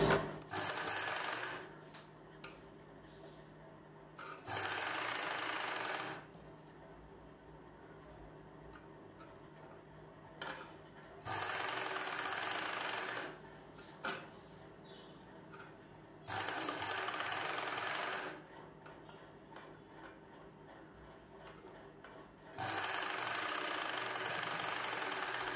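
A sewing machine stitches a folded blouse piece in four separate bursts of steady whirring, each lasting a second or two, with quiet gaps of faint room hum between them.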